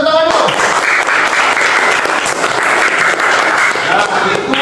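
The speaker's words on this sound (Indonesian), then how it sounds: "Beri tepuk tangan dulu." A classroom group gives loud, dense applause during a teacher-training practice lesson. The clapping is sustained and close, running for about four seconds before it begins to thin out.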